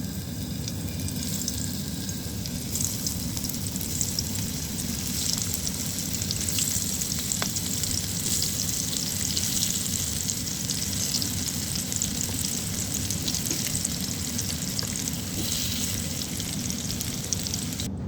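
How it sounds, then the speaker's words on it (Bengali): Spiny gourd pieces coated in salt and turmeric frying in hot oil, a loud, steady, close sizzling hiss that holds evenly throughout without any voices. "টেনে গরম তেলে দিয়ে দিলাম।"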